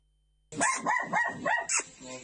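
An ordinary domestic dog barks four or five times in quick, loud succession close by, followed by a sharper yelp and a fading tail of sound.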